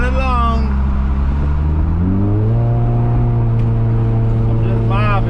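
A Chevy Cobalt SS engine and exhaust hum loudly from inside while cruising, its tone climbing and holding steady, with a voice heard briefly at the start and end.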